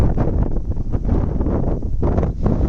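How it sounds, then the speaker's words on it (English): Wind buffets a handheld camera outdoors on a coastal mountain slope among manzanita shrubs, a loud, steady low rumble with gusty surges throughout and no talking. "as the wind blows my camera around"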